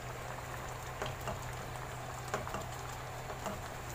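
Simmering ginataang gulay, a Filipino vegetable stew in coconut milk, bubbles steadily in the pot as the second coconut milk goes in, giving an even close liquid patter with a few soft splashes.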